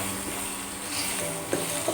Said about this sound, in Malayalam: ഇതെല്ലാം നല്ലോണം ഒന്ന് ഇളക്കി യോജിപ്പിക്കാം.